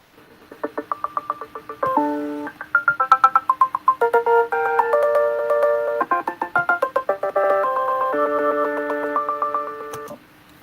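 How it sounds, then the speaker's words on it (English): Short electronic melodic snippets play back to back, each a little longer than the last, building into a bright, beeping, tune-like sequence with steady pulsing notes. "when I drag them all out and make each one of them consecutively slightly longer, it sounds like a song forming out of nothing"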